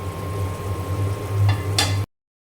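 Spices and salt sizzle steadily in a hot pan, a constant frying hiss up close, with a couple of brief scraping stir sounds near the end before it cuts off abruptly.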